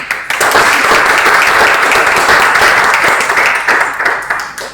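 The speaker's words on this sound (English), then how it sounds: "Just clap for them." An audience claps steadily at an Industry 4.0/5.0 faculty development programme session, a dense, loud, continuous patter of many hands that holds for several seconds before tapering slightly at the end.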